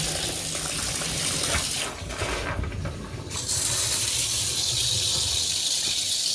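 Water hisses and sprays from an oxygenics PowerMassage shower head with poor water pressure, a steady close spray that dips briefly in the middle before resuming.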